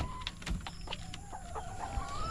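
Backyard laying hens, some blind in one eye, give a handful of short, quiet clucks and murmurs over low background hum, nearby but faint.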